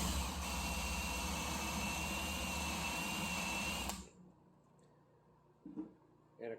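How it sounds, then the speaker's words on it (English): A drill bores a hole into a broken bolt to take an extractor. A loud, steady motor whine runs for about four seconds, then cuts off to near quiet with a few small knocks. "So let's go ahead and drill out for our extractor."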